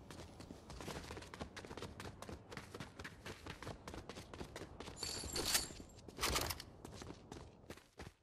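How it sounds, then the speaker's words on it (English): Gunshots in Fortnite ring out in scattered bursts over a busy game soundscape with shuffling movement, and the loudest cracks come in two strong clusters toward the end. "We got shots fired."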